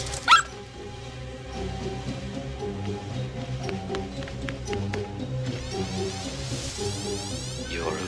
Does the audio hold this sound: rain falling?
no